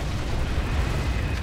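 An explosion in the online shooter Planetside 2, a short, dense burst of rumbling, crackling blast noise that stays fairly even and loud throughout, with no talk over it.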